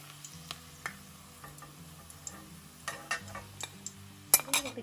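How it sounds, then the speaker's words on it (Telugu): Bitter gourd pieces fry in a pan, a soft, steady sizzle with occasional stirring clicks and a louder scrape of utensil on the pan near the end, heard up close with no talking. "ఒక 5 నిమిషాలు వేయించుకుంటే చూడండి, ఇలా వేగిపోయినాయి."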